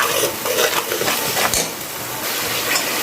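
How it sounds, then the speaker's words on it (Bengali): Spice paste with a little sugar being sautéed and stirred in oil in a pan while cooking a Bengali shankar fish dish, with steady scraping and clinking of a utensil against the pan over a soft sizzle, close and continuous. "এইবারে মশলাটাকে আমি ভালোভাবে তেলের সাথে কষিয়ে নেব।"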